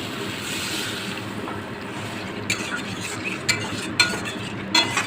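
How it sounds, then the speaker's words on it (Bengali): Tomatoes for a river fish curry are stirred in a pan with a spatula, giving a soft continuous sizzling scrape with a few sharper clicks of metal against the pan toward the end. "খুন্তি দিয়ে ভালো করে ঘেঁটে ঘেঁটে দেবো"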